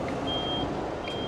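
A bus in a bus driving game sounds its reversing alarm, a thin, steady electronic beep repeating over a low engine idle.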